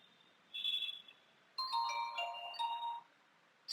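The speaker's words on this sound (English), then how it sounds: "So you'll be greeted with this beautiful startup sound and this beautiful splash screen." Nokia TA-1030 phone startup sound, a short electronic melody of clear tonal notes, a brief chime followed by a longer multi-note phrase, close and alone in a quiet room.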